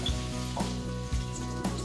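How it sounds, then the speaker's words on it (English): Potatoes for Kashmiri dum aloo frying in oil in a pan, a steady close sizzle with a low hum underneath and a few soft knocks, no voices. "Another minute and our potatoes will be cooked on both sides."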